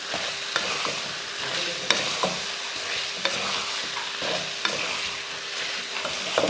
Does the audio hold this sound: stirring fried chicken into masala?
yes